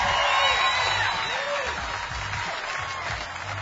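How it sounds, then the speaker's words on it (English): Crowd applause and scattered cheers as bass angler Edwin Evers leaves the stage at a fishing tournament weigh-in, steady and dense throughout with faint voices mixed in. "let's give Edwin Evers a big round of applause as he leaves the stage"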